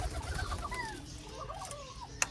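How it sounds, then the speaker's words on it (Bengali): Pigeons coo softly in a low, murmuring chorus over steady background hum, with a sharp click near the end. "এখানে কয়েকটা কবুতর আছে"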